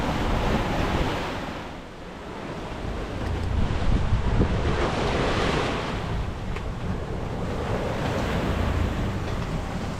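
Wind and ocean waves at sea aboard a solo sailboat, a continuous rushing roar of gusting wind buffeting the microphone over surging, washing surf that swells and eases in loudness.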